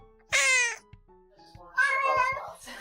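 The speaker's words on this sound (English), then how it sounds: "say meow" A cat gives two distinct drawn-out meows separated by a short pause, close and clear, with faint background taps and no talk.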